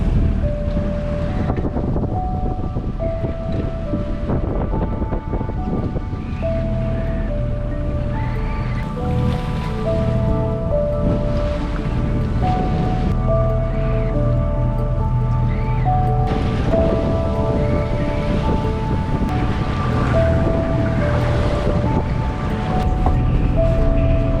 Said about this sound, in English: So now we're going with motor sailing.